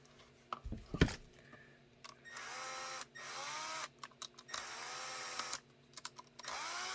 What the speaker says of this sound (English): I get them in with the electric gun, and then I just feel it out by hand.